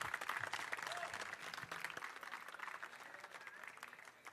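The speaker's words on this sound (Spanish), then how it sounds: "otro fuerte aplauso, por favor" Steady applause from an audience, a dense wash of clapping that holds level throughout, with a faint voice underneath.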